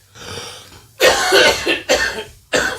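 A few harsh coughs close up, one after another, preceded by a quieter throaty rasp.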